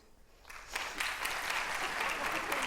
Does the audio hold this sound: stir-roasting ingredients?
no